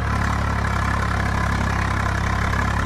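Tractor engine in the Farming Simulator 22 video game, running in top gear while pulling a combine harvester with an Indian mod, gives a loud, steady, low droning hum throughout with no talk over it.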